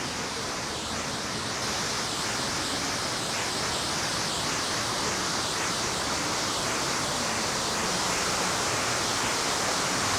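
Waterfalls in Hemisfair Park, San Antonio, a loud continuous rush of falling water filling the scene, steady and close with no pauses or voices.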